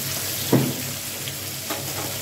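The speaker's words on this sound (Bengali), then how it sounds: "আমি একটু নেড়ে দিচ্ছি, দেখতে পাচ্ছেন আলুটা" Potatoes sizzle steadily in a pan as a spoon stirs them, with a soft scrape near the middle and a fainter second stir toward the end, all under a continuous frying hiss.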